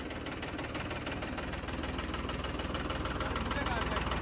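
A John Deere tractor's engine runs steadily with a loud, knocking idle throb throughout, close to the listener.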